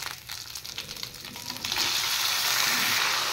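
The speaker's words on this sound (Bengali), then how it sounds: "এবার টমেটো একটু ফ্রাই করে নেব" Ginger paste and chopped tomato fry in a hot pan, a steady close sizzle that jumps louder partway through as the tomato goes in, with stirring over the crackle.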